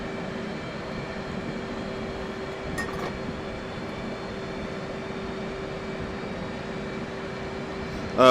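Right engine of an F/A-18C in the DCS World flight simulator spooling up: a steady, droning turbine whine with a constant low hum, broken by a brief metallic click partway through.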